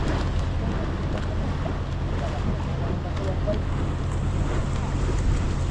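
A boat engine drones steadily with a low, pulsing rumble, mixed with wind noise and water splashing around the hull.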